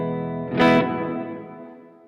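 A Silvertone 1446 electric guitar fitted with a Bigsby rings out a single distorted chord with a bright pick attack, then sustains and slowly fades over about two seconds, heard alone with effects coloring the tone.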